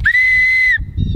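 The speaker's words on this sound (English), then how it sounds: "This is a whistle," An emergency whistle from a bugout survival bag gives one loud, steady shrill blast lasting about two-thirds of a second, then cuts off, leaving only faint background noise.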